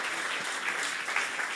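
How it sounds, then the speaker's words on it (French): Audience applause at a music event with a performance, a dense, steady wash of clapping that fills the whole moment. "Allez, on peut les applaudir."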